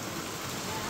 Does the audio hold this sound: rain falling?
yes